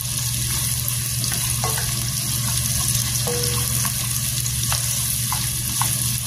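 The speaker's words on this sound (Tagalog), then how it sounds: "I-brown muna natin ng medyo brown yung ating sibuyas para masarap." Onions sizzling steadily in a hot pan for ginisang ampalaya, a constant crackling fry with a few light clinks of a utensil against the pan, close and loud with no talking.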